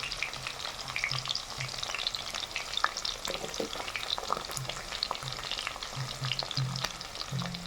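Chopped onion pieces and fennel seeds frying in hot oil for chicken chukka, a steady crackling sizzle with scattered sharp pops and light stirring scrapes throughout, close and fairly quiet, no talking.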